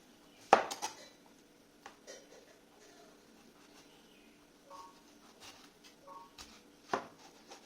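Knife cutting Himsagar mango on a board, with sparse clicks and knocks scattered through a quiet scene, one louder clatter near the start.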